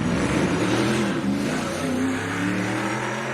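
A NASCAR race truck in qualifying at a 2.5-mile track is push-started and its engine catches, a loud, steady low drone with rising revs that holds throughout.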